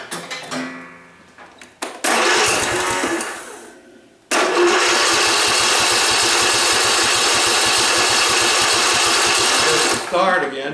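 A Husqvarna riding mower engine sputters through a couple of brief starting attempts, then catches and runs steadily and loudly with its choke held forward, a rough, even mechanical drone that continues for several seconds before dipping slightly near the end.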